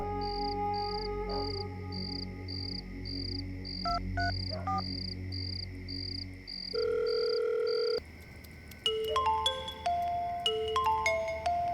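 A telephone call ringing out from a home in a Hindi family drama: a steady pulsed tone repeats for several seconds, then switches to a brighter run of electronic beeps and tones, with no talking.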